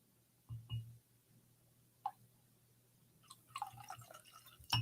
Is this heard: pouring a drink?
yes